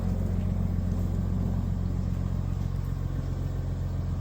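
A 2022 GMC Sierra 1500 Denali Ultimate's Duramax diesel idles close by with a smooth, steady, low rumble that holds constant throughout, with no voices.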